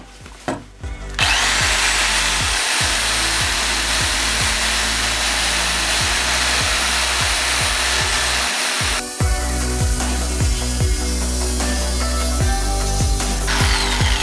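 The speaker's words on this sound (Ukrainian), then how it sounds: "давайте перевіримо, як справляється лобзик з цією задачею" A jigsaw runs continuously and loud, buzzing as it cuts through wood at an angle with a rapid reciprocating rhythm, briefly pausing near the middle; the blade keeps drifting sideways.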